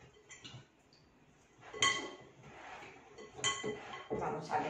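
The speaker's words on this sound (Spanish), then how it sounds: "Entonces vamos a coger las manos y vamos a mezclar muy bien la yema del huevo, la soja" Egg yolk, soy sauce and cornstarch get mixed by hand, probably with pork ribs, giving soft wet squelches and faint clinks of a bowl, quiet and intermittent, with a few louder knocks.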